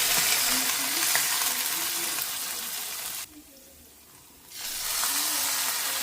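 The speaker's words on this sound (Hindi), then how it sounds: "तो जल्दी से पहले तड़के की आवाज़ सुन लीजिए" Tadka tempering for moong dal sizzles and crackles steadily in hot oil up close, briefly quieting for about a second before the hissing fry picks back up.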